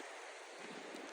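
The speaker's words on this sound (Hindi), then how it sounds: "ओले पड़ना शुरू हो गए, ओले।" Hail falls on the summit of Marsoor Rock, the highest peak near Skardu, as a dense, steady hiss of pattering with no voices.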